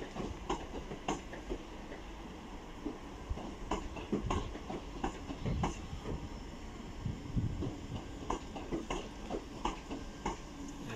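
Class 387 passenger train at Didcot Parkway station, a quiet rhythmic clatter of wheels over rail joints with soft ticking clicks, heard at a distance and fairly faint throughout.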